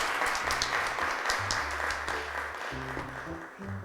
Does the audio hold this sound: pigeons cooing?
no